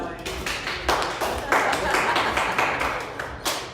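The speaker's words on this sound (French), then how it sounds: "Oui, applaudissez-vous." Audience at a drag-themed evening show clapping in scattered, uneven bursts, moderately close, with voices talking over the applause.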